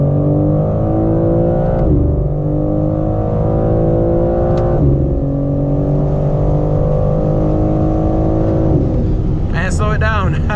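A 2022 BMW M4 Competition G80 pulls hard in third gear from 60, its engine droning loud and steady with rising harmonics, a brief gearshift dip near the end, heard from inside the cabin.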